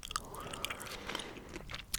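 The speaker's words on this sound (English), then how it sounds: "when you're chewing gum, you're not really eating anything" Gum chewed close to the microphone in an ASMR setting, giving a steady run of wet, sticky mouth clicks and soft crunchy bites across two seconds, quiet and intimate with no talking.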